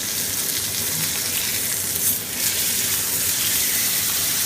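A steak sears loudly in a pan, a dense continuous hiss of sizzling fat that briefly dips and surges as the meat is flipped.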